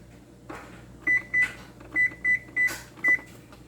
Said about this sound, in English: Setting my timer to 25 minutes.